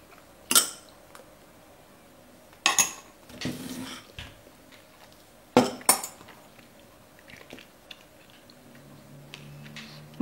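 A metal spoon clinks against dishes in sharp scattered hits while scooping egg and Nutella, with softer scraping between strikes and a quiet room behind.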